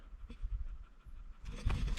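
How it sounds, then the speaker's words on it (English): A dog sitting in the shade pants rapidly and close by, a quick rhythmic breathy huffing that grows louder toward the end. "panting like mad, just sitting in the shade."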